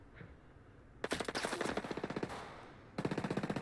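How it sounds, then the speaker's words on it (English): Rapid automatic gunfire traded between two sides in a video game match, sharp close bursts in quick rhythmic strings with a short pause before another burst, no talk. "Both sides just exchanging bullets right now."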